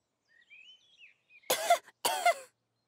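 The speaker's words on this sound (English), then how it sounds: "Caterpillar's got a little cough" Two short, sharp coughs from Caterpillar, a cartoon character in the children's animated show Hey Duggee, close and clear, preceded by faint high whistling chirps.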